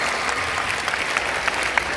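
A crowd at a police station's cyber crime awareness program applauds the inspectors, a dense, sustained clapping that stays loud and even throughout.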